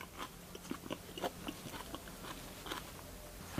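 Raw onion is bitten and chewed alongside rice with palak paneer, giving several soft, close crunches at an irregular pace, faint and with no talking.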